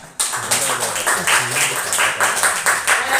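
A small group of students in a classroom clap together, a short burst of rapid, uneven claps in loose pulses, with faint voices mixed in.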